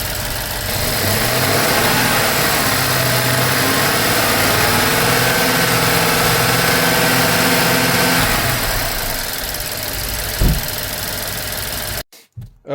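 A car engine revved up to about 2000 RPM and held steady there for several seconds, with a faint knock, then easing back toward idle, while a pressure reading is taken on a suspected bad catalytic converter.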